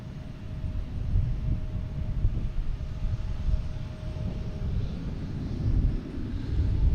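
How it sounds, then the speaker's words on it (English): A Boeing 777 airliner landing, inbound from Heathrow, a heavy, steady low engine roar with broad rumble and a faint thin whine, loud and close throughout without a break. "Boeing 777 coming in from Heathrow."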